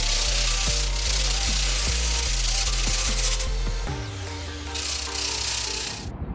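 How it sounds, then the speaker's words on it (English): A power sander whirs loudly and continuously, close by, with its pitch shifting as it presses against the surface, then cutting off at the end. "Become one with the sanding device."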